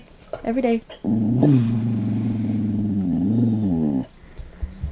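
A dog growls steadily from close by for about three seconds while looking out a window, a low rumbling snarl preceded and followed by brief speech.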